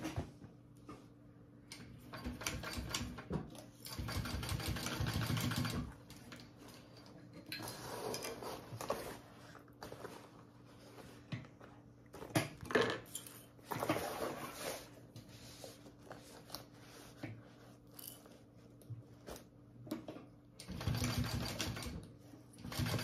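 A domestic sewing machine bastes D-rings onto a bag strap, fast stitching bursts starting and stopping repeatedly at close range, with quiet pauses between runs.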